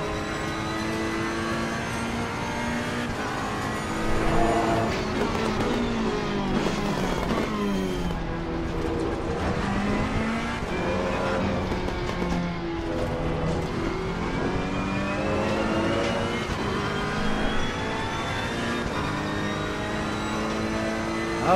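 A Ferrari 488 GT3 race car engine in Assetto Corsa Competizione at the Imola circuit drones continuously, rising and falling in pitch through gear changes and corners, loud and steady throughout.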